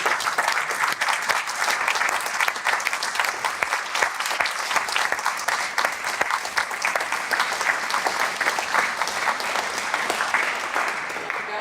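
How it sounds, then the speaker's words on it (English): A large audience at a vocal competition gives the judges a sustained round of applause, dense steady clapping that holds at an even level for the full length. "So please give a round of applause to our judges."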